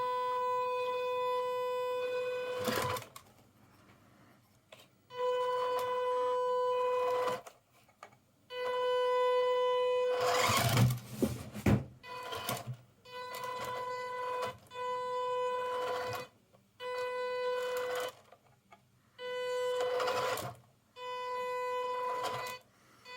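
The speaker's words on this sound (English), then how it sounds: "Very noisy motor." The small electric motor of a WPL D64 RC car whirs in repeated bursts, starting and stopping with short pauses, loud and close with a buzzy, high-pitched tone.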